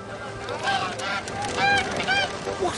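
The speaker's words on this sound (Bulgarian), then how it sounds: "Каква прекрасна гъска." A goose honks several times in short, nasal calls, fairly close, over a murmuring background.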